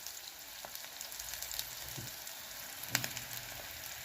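Two onions fry in a pan for a green bean and potato curry, a steady close sizzle with a few soft stirring scrapes and knocks.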